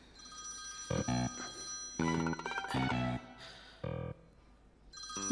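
A telephone bell rings in repeated bursts with pauses between them, loud and close indoors in a domestic scene from an Arabic-language television drama, with no talk over the rings.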